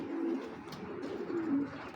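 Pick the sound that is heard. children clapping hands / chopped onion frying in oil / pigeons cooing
pigeons cooing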